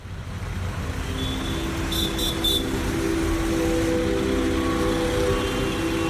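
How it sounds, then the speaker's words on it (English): Road traffic fills a street in downtown Dakar, Senegal, with a dense steady rumble of engines and tyres. A short series of three high horn beeps sounds partway through, and no one talks. "Senegal's capital has the kind of traffic that sneaks up on you"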